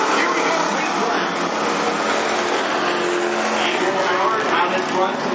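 Race cars at Cottage Grove Speedway roaring away together at the green flag, a dense, steady wall of engine noise close by with a commentator talking over it.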